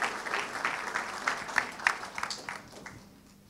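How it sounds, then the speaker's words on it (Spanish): A church congregation gives a burst of applause, lively clapping with distinct sharp claps that swells then gradually thins and fades toward the end. "me hago un aplauso fuerte"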